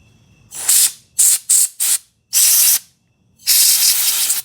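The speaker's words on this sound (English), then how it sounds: "You can also get some compressed air if you want to make it a little quicker. So I'm just going to use a little duster." A small can of compressed air duster is used while cleaning a BMW mass air flow sensor. It gives sharp hissing sprays, a few short bursts and then two longer blasts, close and loud with silent gaps.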